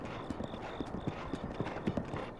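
Horse hooves in Zelda: Breath of the Wild clip-clop in a quick, steady gallop rhythm, soft and evenly paced over a faint background.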